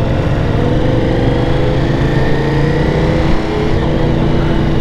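A Ducati Multistrada V4 on a test ride with its stock exhaust gives a loud, steady engine drone with deep rumble and slowly rising tones as it gets under way, with no voices.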